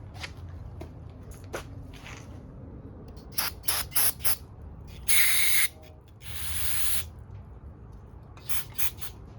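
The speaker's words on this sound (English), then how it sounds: "hit it with a little brake clean." Brake cleaner aerosol hissing in several short bursts and one longer blast onto the carburetor of a Honda Spree scooter, close and loud over a quiet background.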